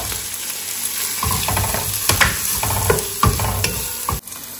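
Tomatoes and chopped green chillies go into a hot pan of oil for chicken tikka masala and are stirred, producing a steady sizzle broken by scraping, clattering strokes of a spoon against the pan.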